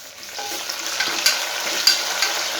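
Tomatoes hit onions already frying in oil for rice bath, giving a gentle, steady sizzle with a few sharp scraping strokes as the pan is stirred, heard close and without talk.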